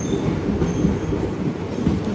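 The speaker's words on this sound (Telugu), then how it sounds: "నుంచి మన ట్రైన్ అయితే స్టార్ట్ అయ్యి వెళ్ళిపోతూ ఉంది" A passenger train on the Kadapa to Bangalore line pulls away from Rajampet, its cars rolling over the rails in a steady, loud, continuous rumble with no voices.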